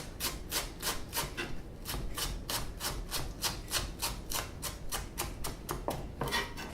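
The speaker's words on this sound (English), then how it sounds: "I'm going to lay it out flat and cut it julienne." Kitchen knife slicing a leek laid flat into julienne strips, a quick, even series of about twenty crisp chopping strokes on a cutting board, close and faint with no talk.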